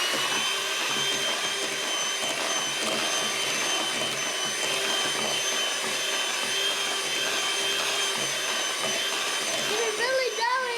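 An electric mixer whirs steadily and loudly through thick sugar-free peanut butter cookie dough, a constant high motor drone with no pauses.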